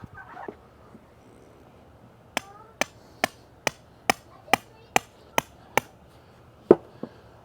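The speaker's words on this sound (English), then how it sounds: "I pound it in with a little bit of an angle so it wants to stay in." A stake being pounded into the ground while preparing a giant pumpkin plant site: about ten sharp, evenly spaced hammer strikes ring out alone, with two final harder blows after a short pause.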